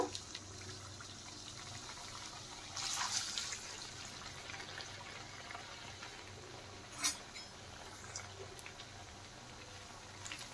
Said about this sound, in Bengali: এখন স্প্রিং রোলগুলো ভেজে নেব।